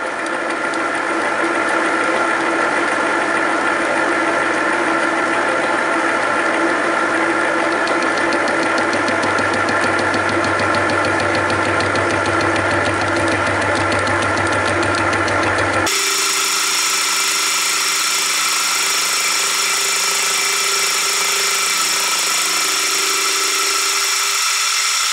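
Machine cutting a small key at a 1 mm depth of cut gives a loud, steady mechanical whine and buzz, unbroken for the whole stretch, with a sudden change in pitch and texture partway through.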